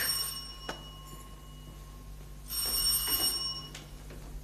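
An old landline telephone in a 1970s Slovak film rings indoors, with two separate bursts of bright metallic ringing at moderate level and no talking.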